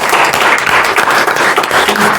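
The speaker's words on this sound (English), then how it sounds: "A round of applause for Toya" A seated audience at a youth day round-table seminar breaks into a loud, close round of applause, a dense, steady patter of many hands that lasts the full two seconds.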